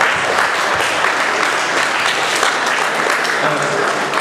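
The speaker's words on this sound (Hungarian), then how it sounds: "Még egy tapsot az összesemünknek!" Dense, steady applause from an audience at a small fan convention prize event, continuous broadband clapping that stays even and loud throughout, with faint voices mixed in the crowd noise.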